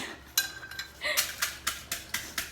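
Several sharp pounding knocks in an uneven rhythm, a pestle striking a mortar while crushing crisp chilies, close and moderately loud with a faint clink.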